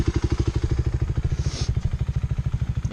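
A Honda Hawk 250 motorcycle engine chugs close by at low speed while its rider practices clutch control, with a steady, rhythmic low-pitched thumping pulse throughout.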